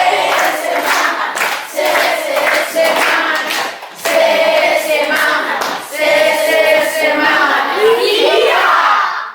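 A group of children chant in unison while clapping in rhythm for a tepuk semangat spirit clap, with loud, close, repeated clap bursts between shouted words and a steady cheer-like cadence throughout.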